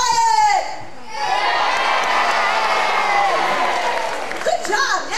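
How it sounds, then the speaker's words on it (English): Live studio audience at a Walt Disney World show cheering, a crowd of children and adults shouting and whooping loudly for several seconds, with a voice briefly audible at the start. "So when you see Quail Man, I need you to cheer."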